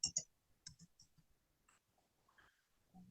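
Keys on a computer keyboard are pressed for a Ctrl+V paste, a short burst of crisp close clicks followed by a few lighter taps in a quiet room.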